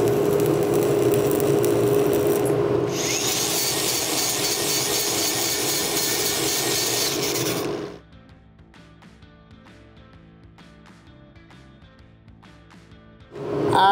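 Fill pass being welded on a 4G overhead weld test plate: a loud, steady, crackling hiss runs for about eight seconds, then cuts off, leaving faint clicks and quiet before it briefly resumes.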